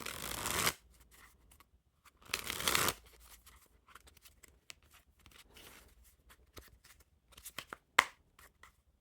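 Two bursts of riffling playing cards being shuffled, close up, followed by softer scattered card clicks and handling taps.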